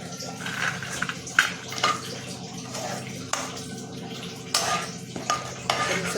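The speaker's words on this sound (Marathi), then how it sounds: "तर आपण हे तेल घालून घेऊया खोबरं आणि खडे मसाला तळण्यासाठी" Coconut and whole spices fry in hot wood-pressed oil in a pan, with a soft steady sizzle under scraping and clinking of a spatula against metal, for a Kolhapuri onion-garlic chutney.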